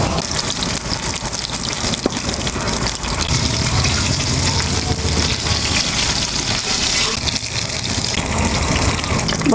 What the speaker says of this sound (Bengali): বন্ধুরা, শুরুতে আমি পাকা টমেটোগুলো ভেজে নিচ্ছি।